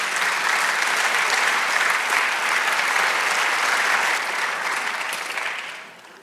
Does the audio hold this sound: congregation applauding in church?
yes